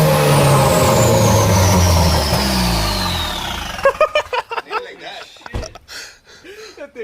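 A Ford Focus ST fitted with a catless downpipe, its engine revving loudly with a rising turbo whine for several seconds, then dropping to idle as people talk over it.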